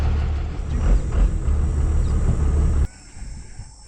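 A diesel truck engine idles on a fuel stop in Botswana, a loud, steady low rumble that cuts off abruptly near the end, leaving faint background noise.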